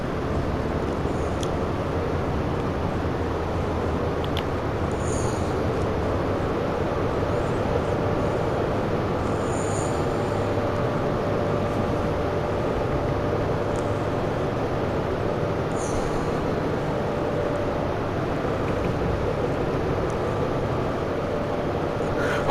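A Class 43 diesel train engine in Train Sim World gives off a steady, even drone and rumble that holds at a constant level throughout, with faint clicks and light cab noises now and then.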